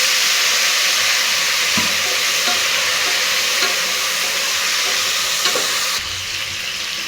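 Cauliflower sizzles and fries in a hot pan with turmeric while being stirred, a dense steady crackle with occasional scraping taps, dropping slightly in intensity near the end.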